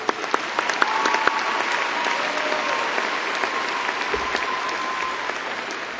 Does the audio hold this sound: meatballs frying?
no